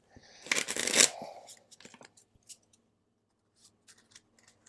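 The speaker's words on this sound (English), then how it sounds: "And now we're going to just give them a quick shuffle." A quick riffle shuffle of a deck of board game cards, a dense papery burst lasting about half a second, then a few soft taps and card shuffles.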